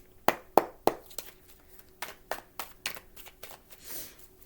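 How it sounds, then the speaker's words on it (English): A deck of tarot cards being shuffled by hand, a series of sharp riffling snaps and taps, close and fairly quiet, irregularly spaced over a few seconds. "One more good shuffle."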